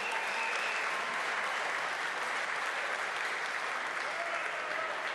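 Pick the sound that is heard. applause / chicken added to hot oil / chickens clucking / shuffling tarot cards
applause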